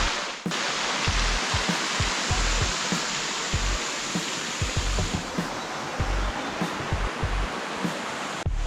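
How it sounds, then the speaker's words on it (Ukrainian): Steady broadband roar of the Bourbun waterfall on the way to Bakota, a continuous rush of falling water heard close, with no voices over it. "Водоспад бурбун."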